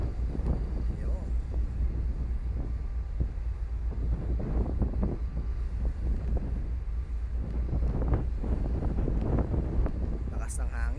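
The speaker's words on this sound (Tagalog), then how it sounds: "Lakas ng hangin." Strong wind buffets a microphone on the deck of a passenger ship at sea, a loud continuous gusting roar with low rumble throughout.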